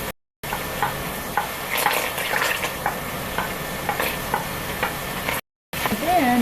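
Sliced peppers, onion and mushrooms sizzle and crackle in a hot pan, with close scraping stirs and a steady frying hiss, briefly cut by two short gaps of silence.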